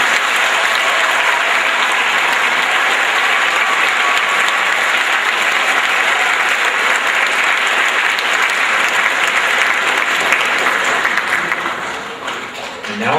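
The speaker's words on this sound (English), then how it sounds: "Can we have one more round of applause for all the players that are on stage?" Dense, loud applause fills a school gathering honoring Class D state champion players on stage, steady for around eleven seconds and then easing slightly near the end.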